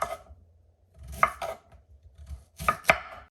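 A knife slices through purple yams on a cutting board for candied yams, giving a few sharp, close chopping cuts in two small clusters separated by short pauses.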